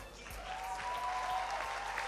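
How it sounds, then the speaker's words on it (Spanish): An audience applauds at a church gathering, a steady wash of many hands clapping at even loudness throughout, heard alone with no talk. "¿le dieron un aplauso?"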